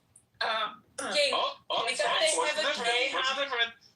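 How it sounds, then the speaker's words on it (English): A person coughs and clears their throat in a few harsh, close bursts, with a short voiced stretch that sounds like speaking through the cough. "I'm coughing because I was drinking water"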